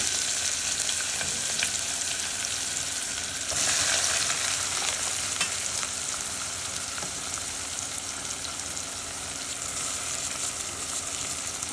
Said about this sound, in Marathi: पहिल्यांदा आपण हा कांदा तेलामध्ये चांगला परतून घेऊ